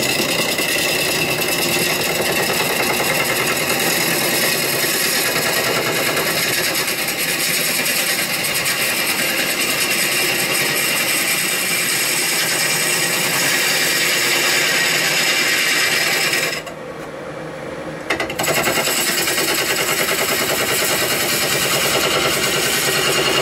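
A wood lathe spins up to 620 RPM for woodturning, a loud steady mechanical whir and rattle that runs without a break except for one brief dip near the end.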